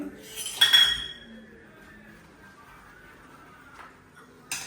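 Small dishes and utensils being scrubbed and washed at a home sink, with a cluster of close metallic clinks early on, then quieter handling and one more clink near the end.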